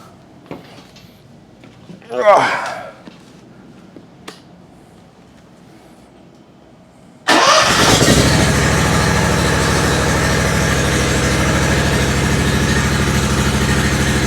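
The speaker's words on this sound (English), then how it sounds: "you're going to start the motor, you're going to keep it on low speed" A riding mower's motor starts and runs steadily at low speed while its Hydro-Gear ZT-2800/3100/3400 transmission is purged. A few clicks and a brief voice come first, then a continuous, close engine drone.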